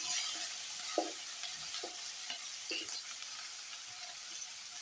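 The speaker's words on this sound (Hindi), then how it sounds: "ये देखिए मेरा तेल भी गर्म है। मैं इसमें प्याज दे दूँगी।" Onions hitting hot oil for rohu fish curry, after the fish has been fried, give a faint, steady sizzling hiss with a few soft stirring knocks and no talk.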